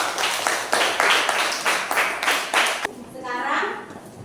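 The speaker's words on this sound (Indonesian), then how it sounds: "Yuk, kita beri tepuk tangan untuk kelompok 1." A classroom group claps in unison for a group of students, about eight loud rhythmic claps in a steady beat, then a short voice afterward.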